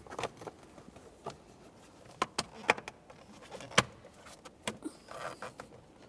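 Plastic covers of a windshield wiper switch on a 1994-1997 Honda Accord being aligned and pressed together, giving a string of sharp close clicks and snaps spread irregularly over quiet handling noise.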